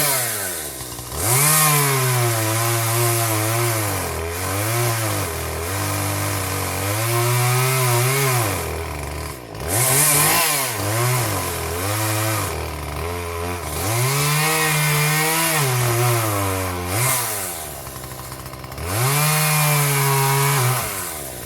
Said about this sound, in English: I go ahead and cut that off right now while I have the chainsaw out here.